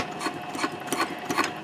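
A Juki TL 2010Q sewing machine runs a straight seam in Cordura fabric, giving steady rapid mechanical stitching with rhythmic clacking pulses, close up and continuous.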